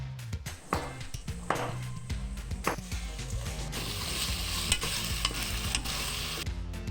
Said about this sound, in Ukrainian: Нехай собі цибуля і морква смажаться до золотистої скаринки 15 хвилин.